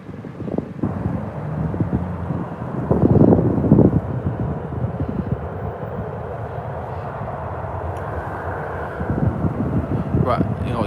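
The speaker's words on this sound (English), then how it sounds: "you can just see the Ryanair taking off in the background with the Jet 2 entering the runway" Ryanair Boeing 737 jet airliner taking off from Manchester Airport, heard as a distant broad roar under gusty wind buffeting the microphone, swelling briefly and then holding steady.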